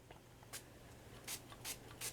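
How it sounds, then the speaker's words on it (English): Several short, quiet hissing bursts from a can of orange spray paint, spaced irregularly over a faint steady hum. "take some of the orange and just spray"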